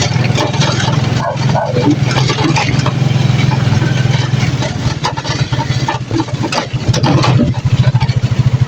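A motorcycle engine runs close by, a loud, steady idle with a rapid, even pulsing throb that continues without a break.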